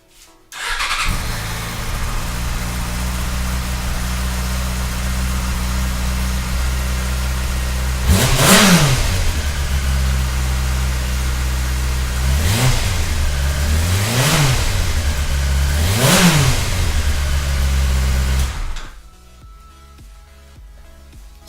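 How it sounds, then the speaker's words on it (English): A Yamaha R6 sport motorcycle with its stock exhaust runs steadily at a loud, close idle, then blips the throttle in four sharp revs before cutting off near the end. "this is it running with the stock exhaust."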